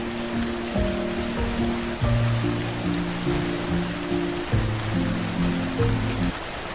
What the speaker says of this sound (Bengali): তখন সেখানে জোর বৃষ্টি শুরু হয়।